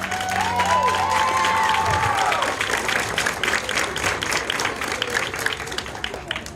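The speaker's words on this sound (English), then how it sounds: "could we please, Casa community, give a round of applause to our parents." A crowd at a school ribbon cutting ceremony applauds the parents, a sustained wash of clapping and a few cheers filling the space, with voices calling out early on.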